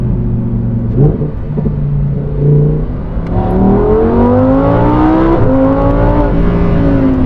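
A Lamborghini Huracan Sterrato accelerates hard to 60, its engine note climbing steadily through several upshifts with brief dips between gears. The loud, close cabin rumble carries no talking.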